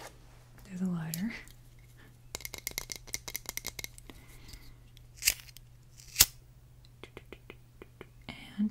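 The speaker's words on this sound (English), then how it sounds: "There's a lighter." A lighter pulled from a zippered bag compartment is flicked and clicked, giving a series of rapid sharp clicks and two louder strikes, close and crisp, after a brief soft whisper.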